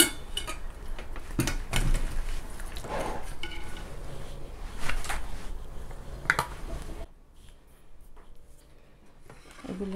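Boiled potatoes, eggplant and tomatoes poured out of a pot into a dish, with close clattering of cookware and utensils, scraping and wet squishy thuds, quieting to faint sounds near the end.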